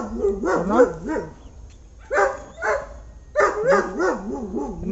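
A dog barks and yelps repeatedly in bursts, with short pauses between each group of barks; close and fairly loud, no talking.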